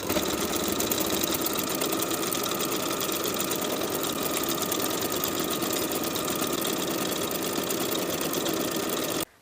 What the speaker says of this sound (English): Sew the neckband in place with a 3/8 inch seam allowance, slightly stretching the neckband to fit from point to point